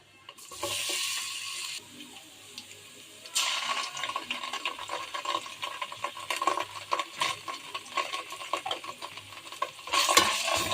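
Oil in a pan with garam masala and bay leaves, a quiet start giving way to crackling sizzle and frequent scraping stir strokes, louder in bursts toward the end.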